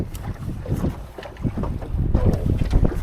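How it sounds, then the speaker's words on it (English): Strong wind buffeting a fishing boat and the microphone in winter, gusty rumbling roar with water sloshing against the hull, close and continuous with no talk. "Wind is blowing like crazy."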